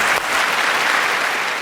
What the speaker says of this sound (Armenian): Եկեք մի հատ ջերմ ծափահարենք մեր